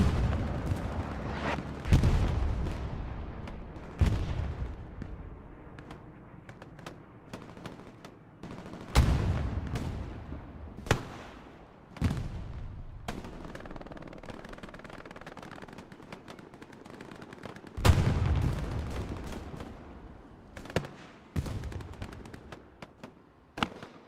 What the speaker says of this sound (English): That was a big tank engagement.